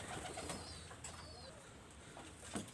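Imported-blood flying pigeons kept for breeding coo softly with low murmurs, and a few faint chirps and brief fluttery sounds come through. The birds are faint and somewhat distant against a background hum, with no voices.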